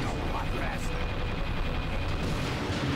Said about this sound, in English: Let's try out our new Blitz Cannon.